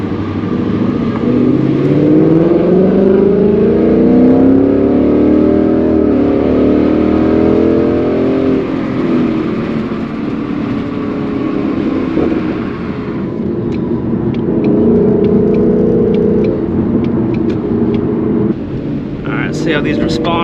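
Car engine revving through paddle-shifted gears on a drive with a revised tune, loud rising and falling engine tones from inside the cabin, with some talking over it.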